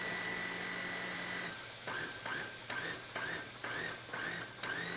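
A blender whirs as it purees ingredients for a seafood pasta sauce, first running steadily, then in a series of rhythmic pulsing bursts, close and fairly loud with no talking.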